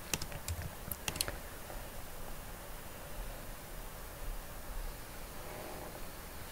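Password being typed on a computer keyboard: a quick burst of faint, close key clicks at the start, then near-silence with soft background noise.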